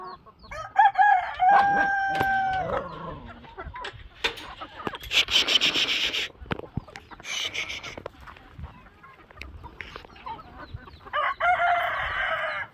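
Backyard hens outdoors, gathered for hydroponic feed, cluck and crow close by in repeated bursts, with a rooster-like crow early and scattered clucking and rustling afterward.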